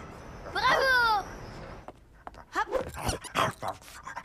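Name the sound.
dog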